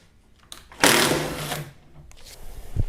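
A power tool loosening the bolts and nut on the door window rail inside a Hyundai Sonata rear door, one sharp whirring burst of under a second, then quiet handling clicks.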